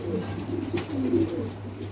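Pigeons offered for sale coo softly and continuously in a brief stretch, a low murmur set against a steady background hum with no voices.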